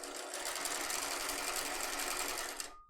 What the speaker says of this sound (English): we're sewing down the length of this scrunchie.